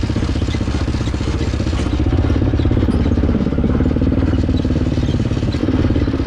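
Motorcycle engine running steadily and loudly while riding in the woods with weak front brakes, a constant close rumble with clattering and rattling and no speech.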